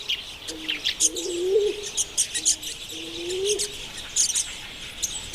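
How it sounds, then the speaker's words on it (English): Madagascar turtle doves coo softly and low in short repeated phrases against a busy background of high bird chirps and calls at a water source in Madagascar. "So too are Madagascar turtle doves."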